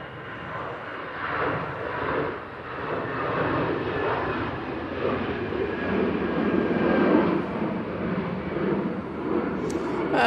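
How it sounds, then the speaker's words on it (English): An EasyJet airliner departs Manchester Airport on a windy day, a broad, steady jet roar sustained at moderate distance and swelling slightly as it climbs away, with wind noise underneath. "Easyjet now departing."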